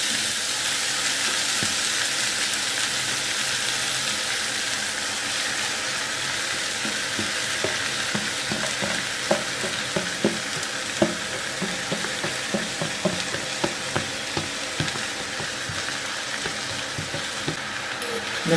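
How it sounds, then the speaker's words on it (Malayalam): Fenugreek leaves, added after mustard seeds, fry in coconut oil for a leafy thoran while being stirred, a long steady sizzle with occasional clicks of the spoon against the pan, close up and without talk. "എന്നിട്ട് നല്ലപോലെ ഇളക്കി ഒന്ന് മിക്സ് ചെയ്തിടണം"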